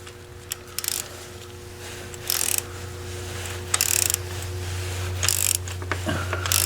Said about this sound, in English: just reverse the ratchet and snug it back up again